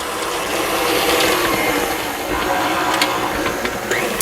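An electric mixer beats a brown sugar mixture for a maple pound cake, a steady loud whirring and grinding drone with bright rattly texture, continuous and close, with no voices.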